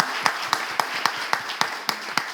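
Audience at a Togolese show applauding with about a dozen sharp, evenly spaced claps in a steady rhythm, fairly close and crisp, no talking over them.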